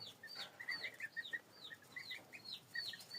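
Goslings cheep in a steady stream of high, thin peeps, quiet and close, overlapping in irregular rhythm.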